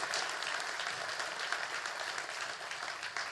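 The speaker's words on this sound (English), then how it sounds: "That all deserves a round of applause." An audience at a city address applauds steadily, a dense wash of clapping that holds at an even, moderate level from start to finish.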